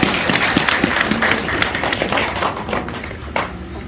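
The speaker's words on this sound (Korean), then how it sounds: "박수 한번 주세요" Audience at a Buddhist temple talk giving a round of applause, a moderate burst of many hands clapping that fades gradually to a few scattered claps.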